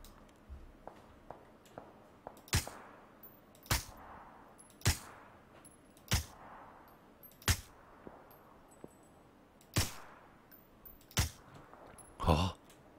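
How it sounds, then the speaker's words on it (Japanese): PUBG gunshots: sharp reports fire one at a time at a steady, slow pace, each with a short echo, over a quiet background. "あっちからも銃声が聞こえてさ。"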